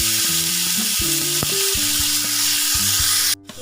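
Hincha greens (saag) fry in a pan with crushed chilli, giving a loud, continuous sizzle and hiss that runs unbroken, with faint steady tones in the background.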